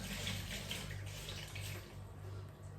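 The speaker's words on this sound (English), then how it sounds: "So let me just put this in water." Running water flows steadily from a tap, like a sink or basin filling, while an item is put into it during fridge cleaning. The rush stays continuous and fairly close, with no talk.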